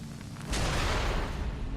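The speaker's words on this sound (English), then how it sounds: "So let's quickly switch this over to the cannon." A cannon blast in the video game Nioh, one loud booming shot that rolls on with a heavy rumble for over a second.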